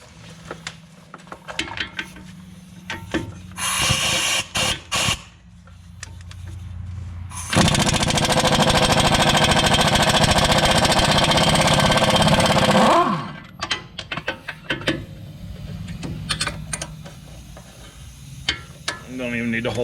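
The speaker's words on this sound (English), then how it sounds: "the first thing I'm going to do is take these knuckle bolts out. 24mm socket on the nut side." On a 2013 Ford Explorer, a 24mm socket on a power tool spins off the front steering knuckle bolts in one loud, continuous buzzing run of about five seconds, with scattered metallic clanks and handling noises before and after.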